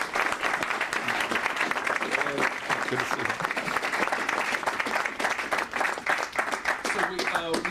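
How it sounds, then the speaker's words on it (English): An audience at an economic policy talk breaks into sustained applause, steady dense clapping from a full room, with a few words spoken nearby partway through. "please join me in giving him a round of applause."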